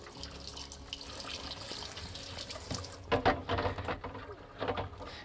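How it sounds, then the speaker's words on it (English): Cold tap water runs into a sink over boiled ramen eggs, a steady, fairly close splashing stream that turns louder and more broken about halfway through. "So I'm gonna run some water under there just for a minute."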